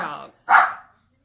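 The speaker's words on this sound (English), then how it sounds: "Excuse my dog." A pet dog named Taz lets out a single sharp bark indoors, close and loud, right after a person's speech.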